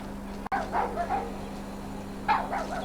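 A dog outdoors gives a few short barks and yips, moderately close, with a steady low hum in the background and a brief dropout near the start.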